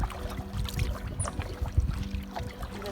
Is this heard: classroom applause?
no